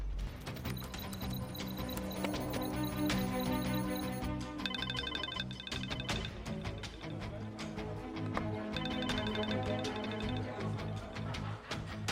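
A telephone rings repeatedly while a call is placed through an office system, bright electronic ring tones pulsing in bursts over a busy dramatic music bed.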